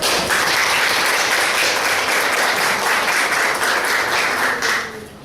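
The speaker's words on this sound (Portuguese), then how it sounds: "Então dá uma salva de palmas para ela." A room full of people gives a round of applause for a woman, producing loud, close, continuous clapping that holds steady for about five seconds before tapering off quickly.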